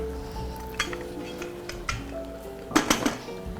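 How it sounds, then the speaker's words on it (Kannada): A cooking pot lid is set down and closed during the making of raw banana palya, giving a few close metallic clanks and rattles near the end amid quiet kitchen clatter. "ಈಗ ಮುಚ್ಚಳ ಮುಚ್ಚಿದ್ರೆ ಓಕೆ"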